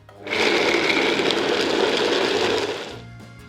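A blender whirs steadily at full speed through a vegan lemon dill and caper sauce, loud and close, starting abruptly and running for about three seconds before winding down.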